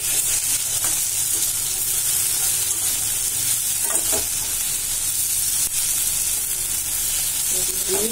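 Ginger garlic paste and chopped capsicum sizzle loudly and continuously in a pan for a paneer capsicum gravy, with faint stirring scrapes throughout.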